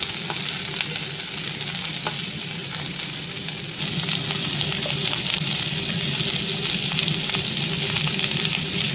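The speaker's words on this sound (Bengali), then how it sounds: "নুন দিয়ে ভালো করে ভাজা ভাজা করে তুলে রাখবো" Sliced ivy gourd rounds fry with salt in a pan, giving a steady, close sizzle and crackle that holds evenly throughout with no talking.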